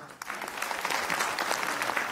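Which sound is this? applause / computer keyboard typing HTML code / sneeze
applause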